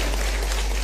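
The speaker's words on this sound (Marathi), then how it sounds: "तुम्ही कशासाठी टाळ्या वाजवताय." An audience clapping at a political speech in Baramati, a brief, dense burst of applause that is loud and unbroken.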